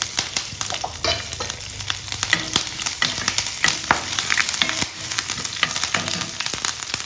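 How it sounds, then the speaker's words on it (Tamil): Dried red chillies, curry leaves, green chilli and ginger crackle and sizzle in hot oil for a lemon sevai tempering, a steady close frying hiss broken by sharp pops and spoon scrapes, with no talking. "இப்போ காஞ்ச மிளகாய் 2 கிள்ளி வச்சுருக்கோம் இல்லையா, அது, கருவேப்பிலை, பச்சை மிளகாய், இஞ்சி எல்லாமே போட்டுக்கலாம்."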